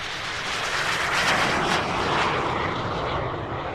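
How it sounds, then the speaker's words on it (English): Airplane engines drone steadily as the aircraft sits on the taxiway before takeoff, a loud, continuous broadband roar heard from inside the cabin with no voices. "throughout the chatter of the crew and the drone of the engines"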